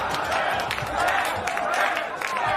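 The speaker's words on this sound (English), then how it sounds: "But the crowd is chanting pants." A TV studio audience chants "pants" in a rhythmic crowd roar, with scattered shouts and claps rising and falling throughout.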